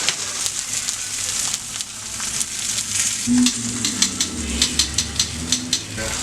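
Chicken pieces searing to golden brown in a pan make a loud, continuous sizzle with frequent crisp pops and spatters, close and steady, with faint metallic clatter.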